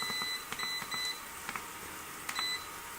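A kitchen cooker timer being set for eight minutes while asparagus pan-fries: a handful of short, thin electronic beeps at uneven intervals, faint against a steady background hiss.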